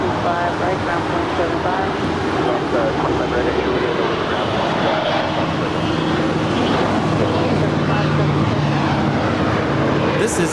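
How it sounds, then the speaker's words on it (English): A Bombardier Global 6000 business jet departs from Los Angeles airport, its engines producing a steady, broad roar that holds for the full stretch, with a faint voice murmuring underneath. "This is a Bombardier Global 6000 departing to Jackson."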